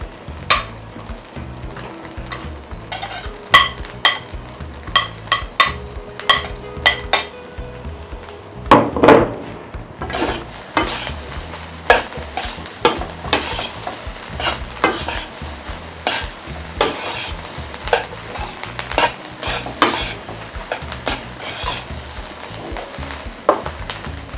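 Carrot and green pepper frying for spicy fried rice, stirred with a utensil that scrapes and clatters against the pan in a steady rhythm over a continuous close sizzle, with no talking.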